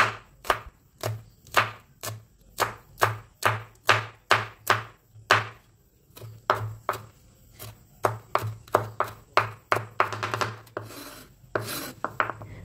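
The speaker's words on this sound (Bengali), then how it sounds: "লঙ্কার দুটোকেও একদম মিহি করে কুচিয়ে নিতে হবে" Two green chilies are finely minced with a knife on a board, a close, brisk run of sharp regular chops in quick bursts with short pauses, alone without talk.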